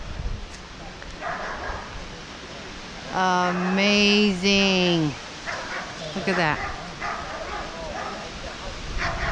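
A dog lets out a few loud, drawn-out barking howls in the middle, with people talking before and after under steady outdoor noise at Bok Tower Gardens.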